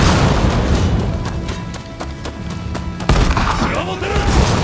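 Video game gunfire in Rise of the Ronin, with a volley of sharp booming shots and thuds ringing out while voices shout over the blasts.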